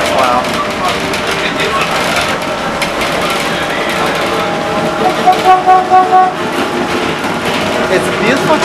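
An Inca Rail passenger train running toward Aguas Calientes, Peru, gives a steady rumble and clatter of wheels on track throughout, with a brief rise in the middle and talk over it.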